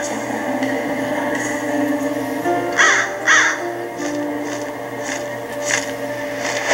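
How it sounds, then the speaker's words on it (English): Repeated bird caws in the LEGO Harry Potter Years 5-7 game, a few clear calls spaced over several seconds above a steady background of game music and ambience. "Look at the bird."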